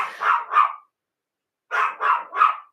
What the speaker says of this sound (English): Why is my dog so mad?